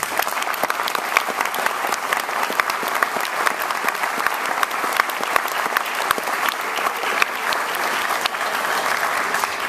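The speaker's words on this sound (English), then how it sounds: "So let's give them a round of applause." An audience at a high school symphonic band concert applauds in a hall, a continuous broad roar of many hands with sharper individual claps popping out near the listener throughout.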